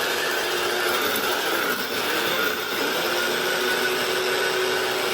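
An electric spice grinder running steadily while grinding berbere spices, a loud continuous whirring buzz held at even strength from start to finish with no talk.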